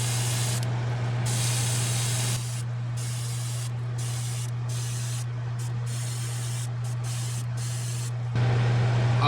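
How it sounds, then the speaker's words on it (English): Airbrush spraying pearl white paint onto a fishing lure at high pressure, a continuous close hiss with brief pauses where the trigger releases, over a steady compressor hum. "I'm gonna spray out the last little bit"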